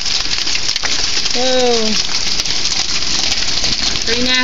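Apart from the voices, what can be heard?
hail beating down outside an open door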